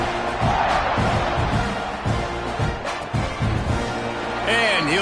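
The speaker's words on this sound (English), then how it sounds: "this crowd now ready to get behind them." Football stadium crowd at an FAU versus Texas A&M game, a loud continuous roar of cheering filling the space around the kickoff, with a broadcast commentator's voice running over it and a whistle-like tone near the end.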